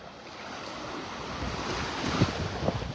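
Steady breezy wind buffets the microphone on Vanderbilt Beach in North Naples, Florida, with surf washing underneath and a few louder gusts near the end, no talking.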